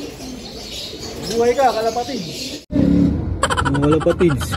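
A pigeon coos in a loft and aviary, soft bubbling calls heard close by under steady excited talk from a man.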